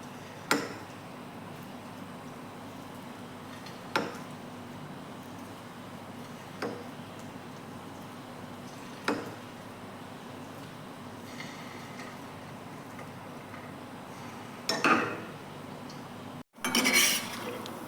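A spoon clinks against a pan at spaced intervals, sharp metallic taps over a low, steady hiss of fish pieces frying in hot oil, with a clatter near the end.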